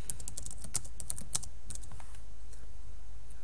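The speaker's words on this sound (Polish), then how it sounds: "Tu wpisuję kilka haseł." Rapid, steady keystrokes on a computer keyboard as keywords are typed in, with a dense run of close clicks that thins out toward the end and no voices.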